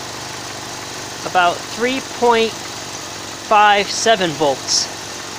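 A 1997 Ford Escort engine idles as a steady low hum in the background while someone speaks close over it.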